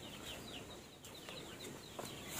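Free-range chickens on a small farm cluck softly in repeated short calls, fairly faint and distant against an outdoor background.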